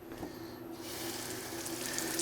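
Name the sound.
washing a carbon steel knife under the tap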